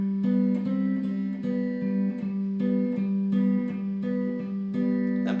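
Guitar slowly plays the second intro pattern of a song, steady plucked notes in an even repeating rhythm with ringing sustained tones, close and clear with no talking.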